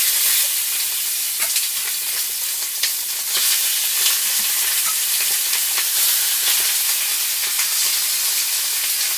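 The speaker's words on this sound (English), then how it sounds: "And we're going to do skin side down. So we're going to sear this off." Chicken seasoned with salt, black pepper and garlic powder sears skin side down in a pan, giving a loud, steady sizzle and crackle of frying with no talk over it.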